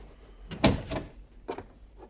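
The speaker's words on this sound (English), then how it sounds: "Close the door." An office door swings shut in a radio drama, one main thud with a latch click, followed by a couple of softer knocks and shuffles nearby.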